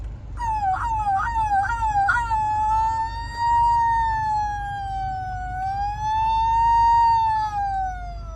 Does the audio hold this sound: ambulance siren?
yes